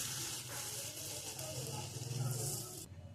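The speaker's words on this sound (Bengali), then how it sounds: "শুকনো মশলা দেওয়ার পরে একটু জল দিয়ে দিতে হবে। দিয়ে দিচ্ছি জল।" Water poured onto dry spices in hot oil while cooking prawn dopeyaja, a loud hissing sizzle that rises briefly, then cuts off abruptly near the end.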